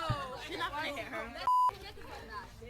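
A censor beep cuts sharply over broadcast speech, a single brief pure tone lasting a moment before the talk resumes.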